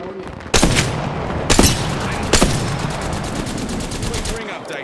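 Gunfire in the Apex Legends video game, three sharp loud bursts of rapid shots with noisy game action continuing between them.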